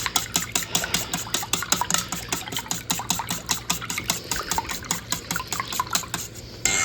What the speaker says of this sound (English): So we want to scramble these up nicely.